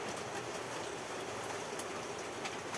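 Rain falls in a steady, even hiss with scattered faint drop ticks, fairly quiet and continuous throughout, with no one speaking.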